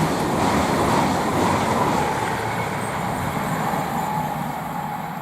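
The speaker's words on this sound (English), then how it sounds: "the next IET to pass by is going to be 800-015 from Great Malvern to London Paddington" IET train 800-015, a Great Malvern to London Paddington service, rushes past at Goring & Streatley on the Great Western Main Line. A loud, dense roar of wheels and air starts strong and eases slightly over a few seconds, with no voices.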